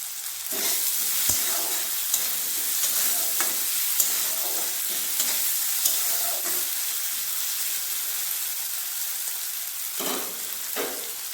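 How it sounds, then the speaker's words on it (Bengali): Chopped onions fry with salt in a pan, making a continuous loud hiss and sizzle that holds steady throughout, with occasional soft stirring scrapes and spatters. "পেঁয়াজটা ভালোভাবে ভেজে নেব পেঁয়াজ দিয়ে দেবো লবণ"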